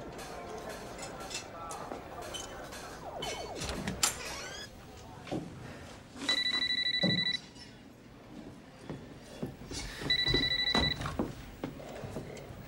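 A telephone rings in two short electronic bursts, a few seconds apart, amid clattering and voices talking nearby.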